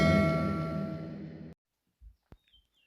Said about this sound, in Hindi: कृपया घंटी बजाकर अंदर जाएं।